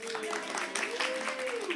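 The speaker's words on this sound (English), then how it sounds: "And now a nice applause." An open mic audience claps on cue, a brief dense patter of hands from many people, with a held, sung-like voice running over it.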